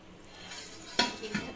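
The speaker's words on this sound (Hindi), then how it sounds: "अब हम इसमें ढक्कन लगा के इसे अच्छे से पकने देंगे" A metal lid is set on a pot of pulao cooking on the stove: a soft background hiss, then two sharp metallic clanks close together near the end.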